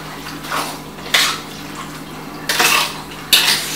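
Puppy food being whisked with water in a bowl, close, wet scraping and clattering strokes coming in several bursts with brief pauses between.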